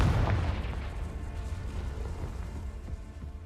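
An explosive Confringo spell in Hogwarts Legacy bursts with a heavy boom at the start that fades into a long, rumbling decay, with no voices over it.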